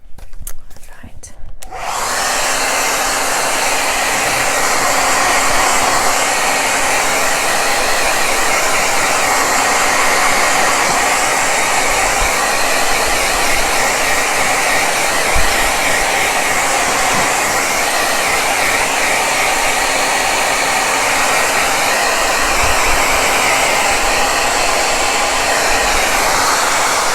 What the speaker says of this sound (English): So I'm just going to hit it with the blow dryer